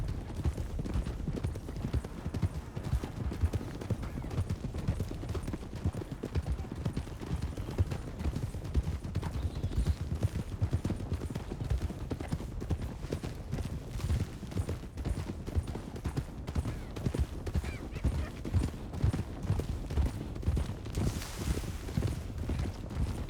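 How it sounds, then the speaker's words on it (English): Glitched horse sounds in a video game, one rider's horse producing a steady, dense stream of clip-clopping hooves as if several horses were trotting together, continuous and fairly loud throughout with occasional whinny-like noises. "There's a weird glitch where one person's horse is making a lot of horse noises."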